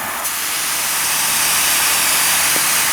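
Steady, loud oxygen hiss from a Cut O Matic track cutting torch, a continuous bright rushing jet with no break for the full three seconds.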